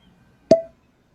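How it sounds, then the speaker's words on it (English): A fresh cork pulled from a bourbon whiskey bottle gives a single short, close hollow pop, with a brief resonant ring afterward, in an otherwise quiet room. "fresh cork pop here, by the way."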